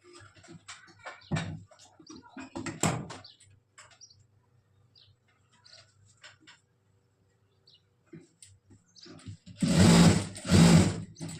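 A sewing machine runs top-stitching along a coat seam in two short, loud bursts near the end, after a stretch of quieter handling noises and pauses.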